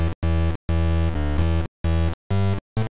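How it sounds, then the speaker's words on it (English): Short bursts of gritty, crunchy synth tone distorted by a bit crusher at reduced bit depth, several separate notes with brief silences between, loud and harsh with no voices. "this crush slider adds a kind of distortion to the reduced bit depth"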